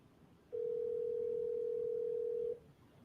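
A telephone ringback tone sounds while calling a property lead: a single steady, clear tone lasting about two seconds that then stops, heard alone over faint line hiss.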